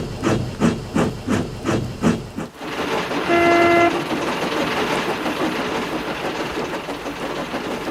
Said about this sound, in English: they whistled at a very sorry Thomas